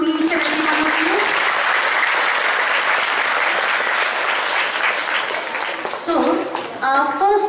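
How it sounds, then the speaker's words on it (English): Audience applause fills a school debate competition hall, dense steady clapping from a large crowd that runs throughout before tapering off near the end, with children's voices cutting in over the final seconds. "So just give a big round of applause to each and every one of you."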